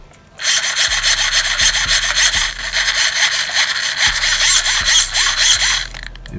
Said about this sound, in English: Here is the servo inside the throttle casing.